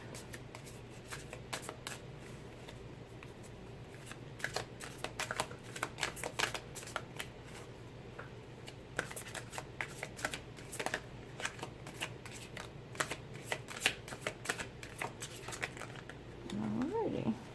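Tarot cards being shuffled by hand, a steady run of soft riffling and slapping card sounds continuing for a long stretch, fairly close and alone with no talk.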